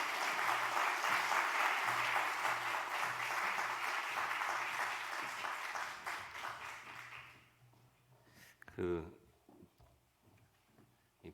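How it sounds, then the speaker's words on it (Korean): A church seminar audience applauds to welcome an elder, a loud sustained wash of clapping that fades out after about seven seconds, followed by a brief voice and quieter room sounds. "우리 나오실 때 박수로 우리 크게 환영하도록 하겠습니다"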